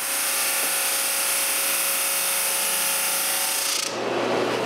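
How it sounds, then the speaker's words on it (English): Oak or walnut pieces for a wooden lamp shade are sanded in a steady, loud, close hiss of a power sander that holds constant, then changes pitch near the end. "Some pieces are way too wide and not really pretty. Not a big problem. I need to sand all the pieces anyway."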